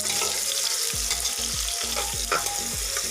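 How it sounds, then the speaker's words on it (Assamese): Onions browning in hot oil with garam masala over a low gas flame, loud close sizzling broken by rhythmic scrapes of a stirring spoon about every half second, with no voices. "পিঁয়াজখিনি ব্ৰাউন হোৱালৈকে আমি ভাজি থাকিব লাগিব"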